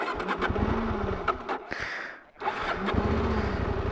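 Motorcycle engine struggling to start and running unevenly, a loud, rough, sputtering mechanical rumble that nearly cuts out briefly before catching again, close by, with no talking.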